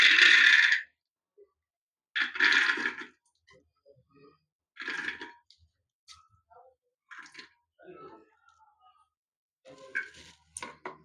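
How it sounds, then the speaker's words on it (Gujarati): Small hard peas rattle into a metal pressure cooker in several short pours, each a brief clattering burst separated by pauses. "તો આ વટાણા નાખશું આપણે કુકરમાં"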